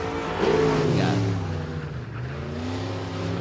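Limited modified race car on a dirt oval at Boothill Speedway, its engine roaring steadily and holding a loud, sustained drone close by, with a rise in pitch near the start and no talk over it.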